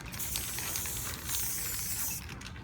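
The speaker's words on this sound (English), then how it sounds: "the first step is we're just gonna spray some stuff a little bit wild on here" A spray paint can sprays onto canvas for space painting, a steady close hiss running almost continuously, with a brief dip in the middle before resuming and fading at the end.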